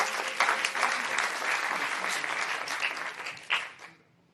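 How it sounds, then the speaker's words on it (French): An audience at a startup demo night bursts into applause, a full, close round of clapping that keeps up before fading quickly into near silence. "Applaudir du coup Bot Crypto."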